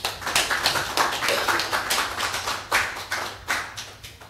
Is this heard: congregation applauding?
yes